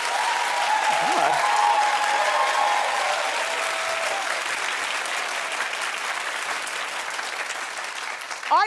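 A studio audience applauds steadily for several seconds, a dense sustained clapping that tapers slightly, with a brief spoken word near the start and a voice cutting in at the end.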